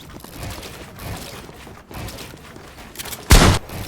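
Rapid gunfire from shooting bots on a Fortnite practice map, with bursts of shots and one loud close blast near the end.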